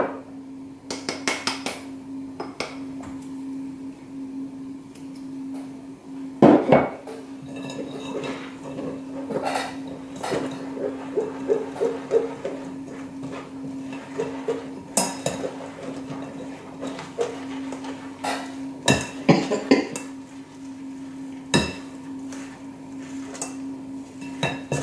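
Dry ingredients for gluten-free gingerbread are sieved into a bowl, giving irregular metallic taps and clinks over a steady low hum.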